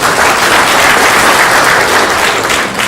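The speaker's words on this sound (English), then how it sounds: "Give a round of applause." A seated audience at a talk gives a brief, loud, even round of clapping that lasts under three seconds.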